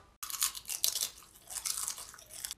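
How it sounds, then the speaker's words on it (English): Loud, close chewing of crunchy chips: a run of crisp, wet crunches in two bursts with a short pause between them and no talking. "Can you stop chewing so goddamn loud?"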